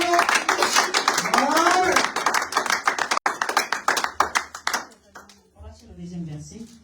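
A church congregation claps in a brisk, steady rhythm while voices sing and speak over it. The clapping thins out and fades after several seconds, leaving scattered voices.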